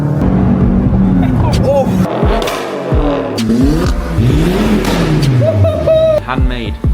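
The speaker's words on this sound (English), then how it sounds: "What does a res delete really sound like on a C43?" Revving exhaust of a Mercedes C43 with its resonator deleted, loud and close, rising and falling through several throttle blips with a short voice exclamation over it.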